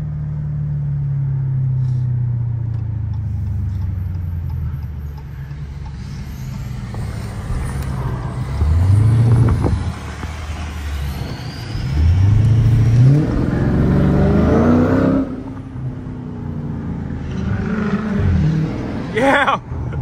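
Two 500 HP V8 Scat Pack cars rev and accelerate hard through traffic alongside trucks, with a loud, rising engine roar surging in repeated waves amid road noise and air-brake hiss.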